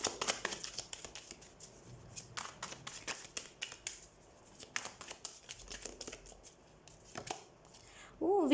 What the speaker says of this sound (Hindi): तो सबसे पहले हम कार्ड शफल कर लेते हैं